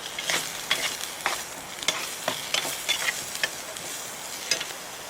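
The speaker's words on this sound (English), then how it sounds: "we're just going to start incorporating that cold stock with the roux" Cold stock is stirred into dry roux for a chicken and sausage gumbo at a camp cooking setup, a soft wet scraping and swishing of a spoon in a pot with a faint sizzle, repeated rhythmic strokes close by.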